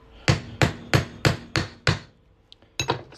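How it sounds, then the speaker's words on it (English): A plastic hammer strikes a coin ring punching tool on a Wisconsin quarter. Six evenly spaced sharp, close blows are followed by a short pause, then two more quick hits. "we're just going to hammer it on through"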